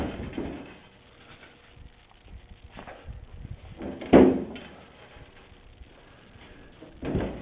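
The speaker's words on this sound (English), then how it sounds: "Close the other door." A smoker door shuts with one solid knock midway, preceded and followed by softer handling thumps and rustles, close by while meat smokes inside.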